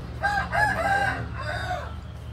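Rooster crowing loudly and close in a chicken coop, one long drawn-out call with hens clucking faintly around it, over a steady low hum.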